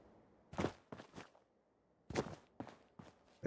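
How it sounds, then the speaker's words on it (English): Footsteps of a character walking in Fallout 4: a few soft, separate steps in two small clusters, close by, over near silence. "the footstep sounds are changing a bit."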